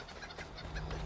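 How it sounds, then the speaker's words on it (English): A turkey gobbles in the video game Assassin's Creed III, a short, close, throaty burst of bird calls heard alone. "Turkey."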